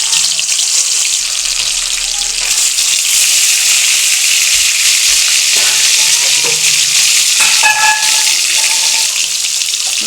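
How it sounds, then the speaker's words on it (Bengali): Pieces of bata fish frying in oil in a wok make a loud, continuous sizzle for about ten seconds, with occasional scraping and stirring noises. "মাছগুলো কড়াতে দেওয়া হয়ে গেছে। মাছগুলো ভাজা হোক।"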